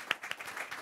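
A few scattered claps from an audience at a panel discussion on inclusion, brief and fairly faint, with a couple of sharper individual claps.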